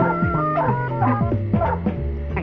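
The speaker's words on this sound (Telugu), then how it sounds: "ఏనుగులా ఉండేదే కుక్కరా బాబు" A dog in a Telugu comedy film scene gives a run of yelping, whimpering barks and howl-like cries, fairly loud and continuous over busy background sound, with no talking.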